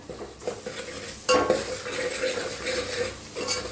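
Spice masala with red chilli, black masala powder and turmeric roasting in oil in a pan, spoon scraping and clinking against the metal over a soft sizzle, with a louder clatter partway through.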